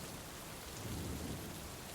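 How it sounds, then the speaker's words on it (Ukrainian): Thunder in a spring storm rolls as a low, steady rumble under a constant wash of rain, swelling slightly in the middle, with no voices. "аж дригнувся кожний дім, як почувся з неба грім"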